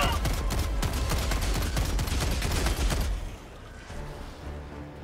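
Rapid automatic gunfire from a Breaker shotgun in Helldivers 2 rattles loud and close for about three seconds, then cuts off, leaving quieter background rumble and distant combat.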